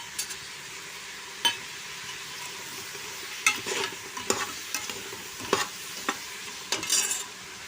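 Fried vegetables with salt and cashews being stirred in a pan for spiced eggplant rice, a gentle continuous sizzle broken by sharp spoon scrapes and knocks against the pan at irregular intervals.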